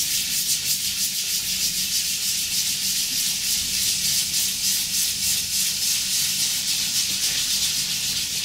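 Sandpaper rubs in steady back-and-forth strokes on a roof surface being prepared for repair, a continuous gritty scratching heard close up with no talking.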